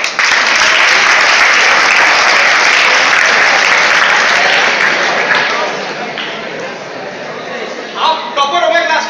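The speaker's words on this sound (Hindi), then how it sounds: "तालियां हो जाए इसके लिए।" Students in a workshop classroom break into loud, sustained applause that fills the room for several seconds, then thins out toward the end as a few scattered claps and voices remain.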